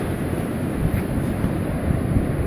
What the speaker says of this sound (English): where the waves are breaking right in there